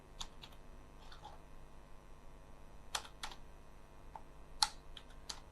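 Typing on a Windows computer keyboard comes as sparse, quiet clicks in short bursts, some keystrokes louder than others, over a faint steady hum.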